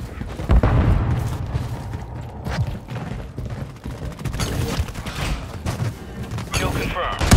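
Rapid bursts of gunfire and booming impacts in Call of Duty MW3 multiplayer, loud and continuous, with shouted voices over the shooting.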